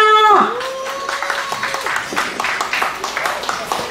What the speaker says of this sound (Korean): 잘하라고 박수 한번 주세요